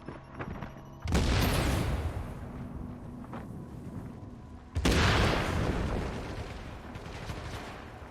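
Two big bomb explosions go off close to the player in The Division, each a sudden loud crack that rolls into a long roaring rumble before fading.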